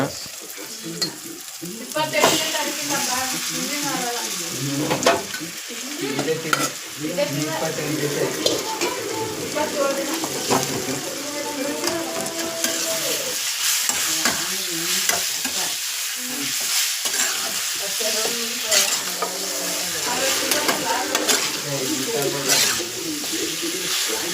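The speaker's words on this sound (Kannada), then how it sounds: "ಇವಾಗ ಅದನ್ನು ಮಸಾಲೆ ಜೊತೆ ಮಿಕ್ಸ್ ಮಾಡೋಣ" Marinated chicken is stirred into a pan of sizzling masala for a dhaba-style chicken gravy, with a steady close frying hiss and repeated scraping stirs running throughout and no clear speech.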